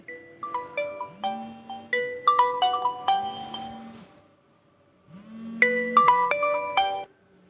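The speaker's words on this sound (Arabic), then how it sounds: "معلش التليفون كان بيرن يا بنات." A telephone ringtone plays a repeating melodic tune in two bursts, with a short pause between them, fairly loud and heard alone in an indoor setting.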